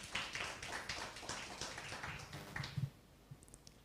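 Church congregation clapping for Jesus during a sermon, with a brief burst of scattered, moderately close applause that fades out near the end.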